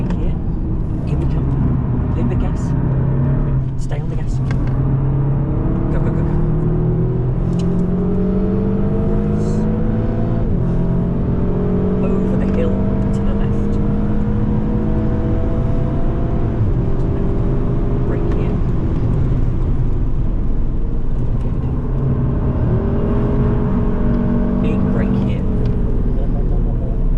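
A car accelerates around the Nürburgring track, its engine note climbing in repeated rising sweeps through the gears, loud and continuous, while a person talks throughout over the engine.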